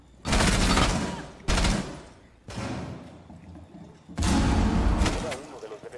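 Gunfire in Rainbow Six Siege on the Fortaleza map, heard as several loud, broadband bursts of shots separated by short pauses, with a voice talking over parts of the exchange.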